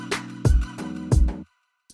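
A short upbeat electronic loop with deep kick hits and a snappy clap, processed with Ableton's regular delay, playing alone and stopping abruptly near the end.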